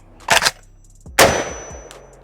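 Two sharp rifle gunshots, the second trailing into a thin, high metallic ring from the muzzle device that lingers and slowly fades.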